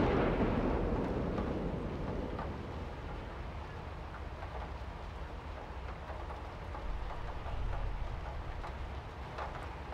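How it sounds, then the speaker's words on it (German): Rain falls steadily outside with a low thunder rumble, a dense continuous wash that swells at the start and again near the end, with no one speaking over it. "Kann es sein, dass es jetzt wirklich draußen regnet?"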